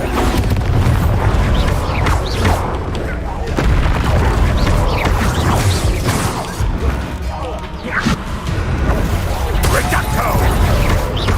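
Bombarda blasting spell detonating in the Hogwarts Legacy video game, a loud booming explosion amid continuous battle noise, with voices shouting over the dense, unbroken din.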